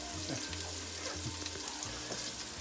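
Onions fry in a hot pan, a soft, steady sizzle with faint crackles and occasional light clinks, fairly quiet and close.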